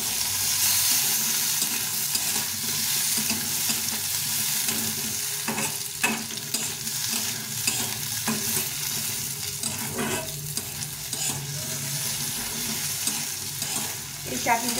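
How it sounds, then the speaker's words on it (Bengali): Chana dal with chopped chili fries in a pan, a loud, dense, continuous sizzle with stirring scrapes, close up and without speech. "এটাকে ভালো করে ভেজে নেব হালকা করে"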